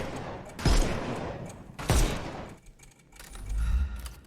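Two loud, close gunshots from the Sherlock Holmes Chapter One video game, each a sharp crack with a decaying boom about a second apart, followed by a softer rumbling thud near the end.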